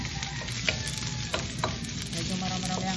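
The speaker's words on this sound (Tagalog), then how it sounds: "Init na ang mantika, magigisa na tayo ng sibuyas." Chopped onions sauté in hot oil for ginisang upo with sardines, giving a steady, close sizzle broken by a few sharp stirring scrapes, with no voices.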